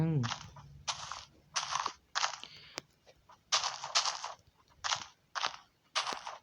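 A rapid series of sharp Minecraft TNT blasts in uneven bursts, about a dozen short explosive bangs in quick succession, fairly close.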